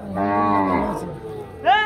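At the Adda cattle market in Barura, Cumilla, a cow lets out a long, loud, close moo, and a second call starts near the end amid faint market background.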